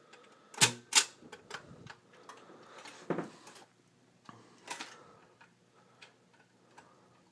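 A General Electric record player's changer mechanism cycles through to shut off. It makes a quiet series of sharp mechanical clicks, ticks and clunks at an uneven rhythm, with a couple of louder snaps near the start. No voices.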